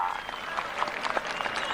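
A crowd at a village wrestling (kusti) ground in Baramati breaks into brief, scattered clapping, heard briefly under an announcer's voice.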